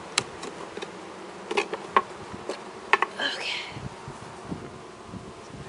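Honeybees in an open hive hum in a steady buzzing drone close up, with scattered clicks and light handling knocks over the top.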